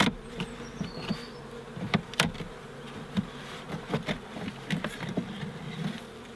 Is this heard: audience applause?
no